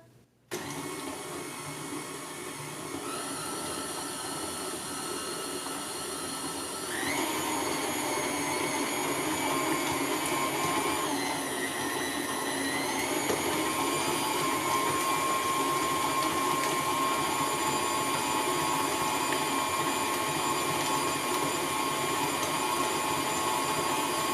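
A KitchenAid 5-quart Artisan Design Series stand mixer with glass bowl and flat beater creams two sticks of softened butter with sugar at speed 4, a steady loud motor whine that steps up in pitch and holds, with no talking.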